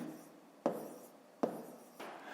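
Pen writing numbers by hand on paper during a long-division exercise, heard as a soft continuous scratching in three separate strokes, each beginning with a sharper touch of the tip, close and quiet.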